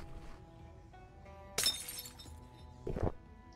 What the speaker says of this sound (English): Was that glass or was that just someone breaking?